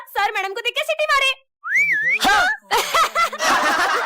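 A person whistles a wavering, rising-and-falling tune at a woman teacher in a comedy skit, a short clear whistle between bursts of lively speech and laughter.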